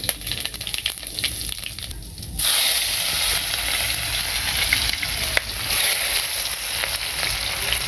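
Chopped onions hit hot oil for a village-style red curry of free-range country chicken, a loud steady sizzle that jumps louder partway through and keeps hissing with no talk.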